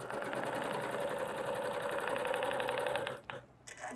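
A Janome Horizon Quiltmaker Pro 15000 sewing machine stitching through a quilt, a fast steady whirring hum of needle strokes running close and even for about three seconds before stopping.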